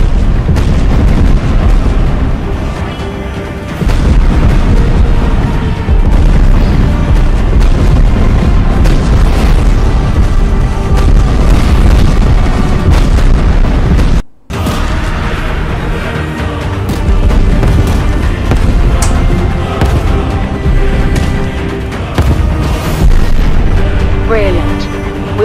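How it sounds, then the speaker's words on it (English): Explosions rumble through a scene in the video game Sky Piercer, a dense, loud, sustained wash of booming bursts and debris with a brief cut of silence midway, while voices talk over it. "It's exploding! Look! It's exploding a lot."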